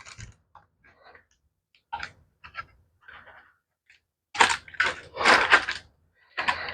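Metal bench scraper pressing down through a pan of gluten-free, dairy-free peppermint brownies, with sparse soft clicks and taps followed by a cluster of louder, close scraping knocks against the pan.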